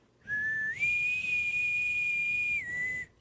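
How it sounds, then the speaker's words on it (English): A single sustained, piercing ship's crew whistle signal that steps up in pitch, holds steadily, then drops back before cutting off. "the distinctive whistle meant all crew stopped what they were doing to hear a message"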